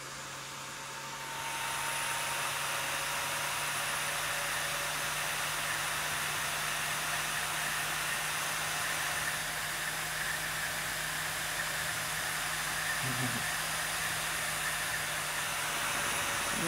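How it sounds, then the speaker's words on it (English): An old 5.25-inch Seagate hard drive motor, roughly 20 to 25 years old, driven by a brushless DC controller, spins up into a steady loud hissing whine that holds for many seconds. "Probably a 20 to 25 year old Seagate hard drive to do over 7200 RPM."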